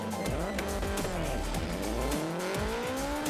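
A front-wheel-drive Honda Civic nine-second drag race car at a track test day, its loud engine revving and shifting steadily up through gears with brief tyre chirps, close and continuous throughout.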